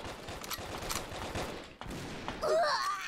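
Gunfire in the Brick Force video game, a quick burst of rapid shots over dense game noise with a brief pause and a harsher crackle near the end.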